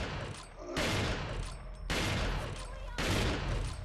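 Gunfire in the video game Resident Evil 4 comes as three loud, harsh bursts of rapid shots about a second apart, each one dense and booming, with a voice talking between them.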